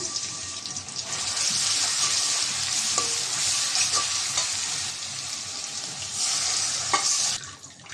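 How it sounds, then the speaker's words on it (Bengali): Onion and garlic paste fries in hot oil in a wok, a loud continuous sizzle with occasional stirring clicks and scrapes, close up and without talk. "পেঁয়াজ রসুন বাটা দিয়ে দিলাম"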